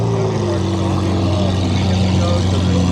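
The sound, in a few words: SVJ supercar engine making loud noise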